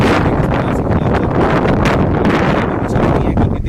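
Strong wind buffeting the microphone near a bridge at Limtara, Chhattisgarh, a loud, continuous roar with gusty swells and no pauses.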